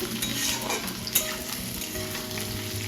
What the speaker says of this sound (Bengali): পেঁয়াজ আলু বেশ ভালো করে ভাজা ভাজা হয়ে গেছে